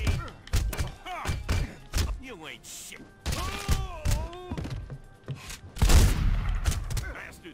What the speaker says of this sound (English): Oh, who's shooting at me?